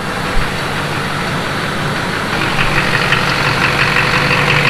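A truck engine runs steadily, heard as a loud, close, continuous rumbling drone with a constant idle texture throughout.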